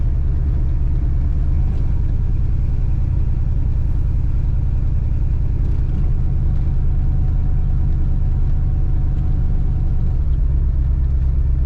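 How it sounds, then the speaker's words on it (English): A 1976 Chevrolet Caprice Classic two-door lowrider engine running steadily in a low, continuous rumble, close and loud for the whole stretch with no talk. "Good running engine."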